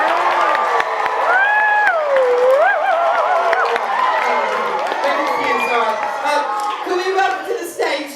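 A studio audience lets out a sweeping, rising and falling 'ooh' mixed with clapping and cheering, a loud, sustained crowd roar that holds for several seconds before trailing off.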